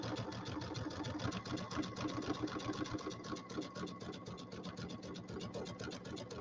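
A sewing machine stitches binding onto a settee pillow with monofilament thread, a fast, even mechanical whirr of rapid needle strokes running steadily and close up throughout.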